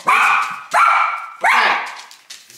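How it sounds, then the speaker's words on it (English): A dog barks close and loud, four sharp barks spaced at a steady rhythm with brief gaps between them. "Jenny, Jenny, who are you barking at?"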